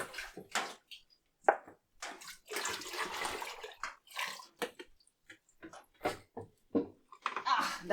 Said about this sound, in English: get yourself a bucket of water, fill it up, and bring with you to the shower